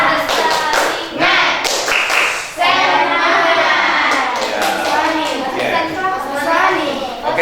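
Children in a classroom perform the rhythmic 'tepuk semangat' spirit clap, patterned bursts of hand claps and taps mixed with young voices chanting and calling out, steady and fairly loud throughout.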